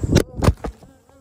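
Honey bees in an opened beehive give off sharp, loud bursts of buzzing, three quick swells in about a second before fading to a softer hum.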